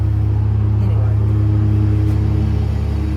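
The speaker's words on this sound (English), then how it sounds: "My neighbor's mowing next door and they throw a rock in my building." A neighbor's lawn mower runs next door, giving a loud, steady, low engine drone that continues without a break.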